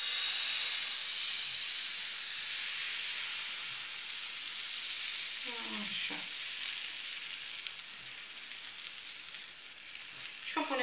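Crepe batter ladled into a hot pan sizzles with a steady, bright frying hiss that fades slightly over time, with a brief spoken word partway through.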